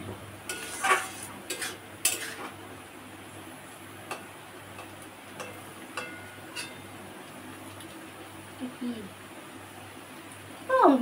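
Spices for a pointed gourd (potol) curry fry in a pan while a utensil stirs them, giving soft scraping, light metallic clicks and a faint sizzle under ongoing talk.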